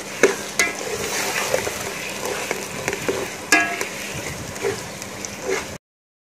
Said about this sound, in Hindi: अब हम इसकी भुनाई करेंगे।